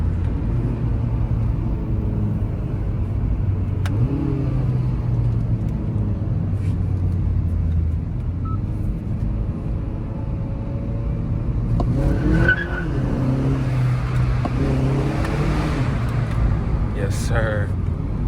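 A car's engine rumbles steadily in sport mode with a low drone throughout, and a louder burst of revving and tire squeal swells near the end. The sound is close and loud, with some voice-like activity mixed in.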